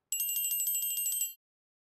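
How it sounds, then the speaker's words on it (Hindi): A telephone rings over a speaker, a quick trilling burst of bright electronic pulses that lasts about a second before cutting off, fairly quiet with no voices. "it's ringing"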